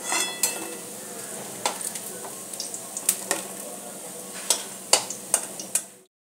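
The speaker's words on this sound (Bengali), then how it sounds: "তেলের মধ্যে দিয়ে আমি বাকিগুলো ভেজে নিয়ে ফেরত আসছি" Bread rolls fry in hot oil with a soft continuous sizzle, punctuated by sharp clinks and taps of a utensil against the pan at an irregular pace, close by and without talk, cutting off abruptly.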